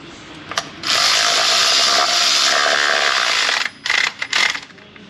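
A power tool whirs continuously for about three seconds while tightening bolts on a 4.0 Jeep YJ Wrangler exhaust, preceded and followed by short clicks and bursts of mechanical noise at close range.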